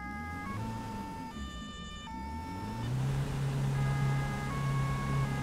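Police car sirens in the driving game Autobahn Police Simulator 2, wailing and yelping tones layered over steady engine hum, loud and continuous, shifting pitch patterns throughout.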